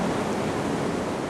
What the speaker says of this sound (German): Hinter mir brandet die tosende See, vielleicht könnt ihr es sehen. Gewaltige Wogen,